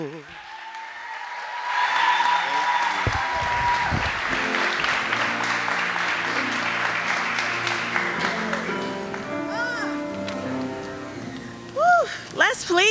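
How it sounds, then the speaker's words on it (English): Sustained crowd applause at a Harris-Stowe State University Honors College graduation ceremony, a dense wash of clapping from a large audience that fades toward the end, with voices and cheers mixed in. "Let's please give him another round of applause."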